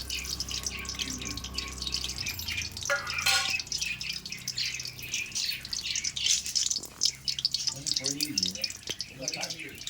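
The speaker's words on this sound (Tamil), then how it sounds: "கடுகு அண்ட் வெந்தயத்தை போட்டுடலாம்." Mustard and fenugreek seeds crackling and popping in hot oil while making tomato pickle, a dense crisp sizzle with scattered pops, heard close up with a voice speaking over it.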